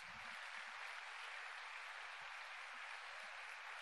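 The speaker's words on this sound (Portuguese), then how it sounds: "Aplauda o Senhor, irmãos." Faint, steady applause from a church congregation, a soft wash of clapping heard from some distance with low thumps beneath.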